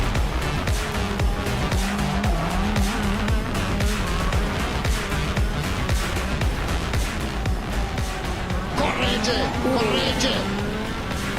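Racing karts from Birel, Oberon and Praga battle wheel to wheel through a corner, engines droning loud and continuous with tyre scrub, while a commentator's voice runs over the noise throughout.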